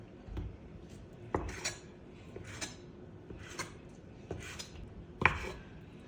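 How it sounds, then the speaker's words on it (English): Knife chopping chicken on a cutting board into small pieces for a homemade chicken bake, heard as about five sharp, spaced thuds over a quiet kitchen background with no talking. "Chop it to small pieces and lay it right in the middle"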